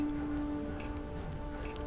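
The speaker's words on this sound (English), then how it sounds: "A heavy rain is present, reverberating on the roof like a demure crowd applauding in silence." Heavy rain patters steadily on a roof, a dense, even wash of drops with a faint tonal hum underneath.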